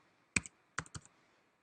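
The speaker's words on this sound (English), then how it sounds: "Apologize for my slow typing." Several sparse keystrokes on a computer keyboard, close and fairly loud clicks in small clusters with quiet gaps while entering network settings.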